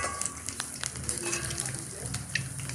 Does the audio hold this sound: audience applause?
no